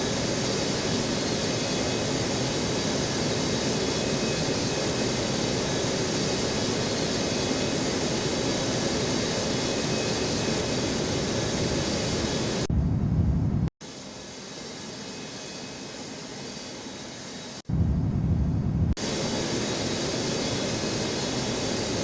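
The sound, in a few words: jet aircraft on a Newark airport runway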